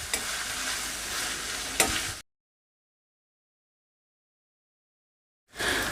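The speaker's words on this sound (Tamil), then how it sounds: "வெங்காயம் நல்லா வதங்கணும்" Steady broadband sizzling of onions sautéing in a pan for beef gravy for about two seconds, then silence, then the sizzle returns.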